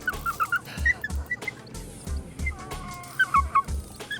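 Dog on a fishing boat chirping excitedly, a close string of short high yelps and squeaks over a low thumping background, repeating in quick bursts.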